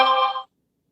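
A short electronic chime from a phone announcing an incoming text message, a single bright tone lasting under half a second and then cut off into silence.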